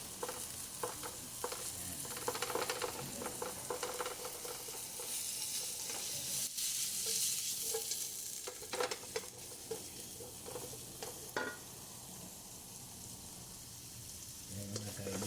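Thinly sliced meat frying in a pan, a soft, continuous sizzle and crackle with occasional stirring scrapes and clinks, fairly quiet and steady throughout.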